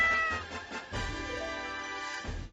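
A tamed cat in the Minecraft video game meows, two drawn-out, clear meows close up with a brief pause between them.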